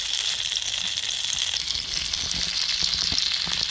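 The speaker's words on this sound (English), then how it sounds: "I do like frying in animal fat against vegetable oils" Food fries in lard in a pan on a Trangia stove, a steady close sizzle with small crackles and faint scraping, no talk.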